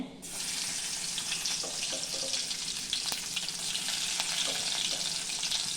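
Garlic dropped into hot oil in a pan for a potato dish, a steady bright sizzle and crackle that holds evenly and up close throughout.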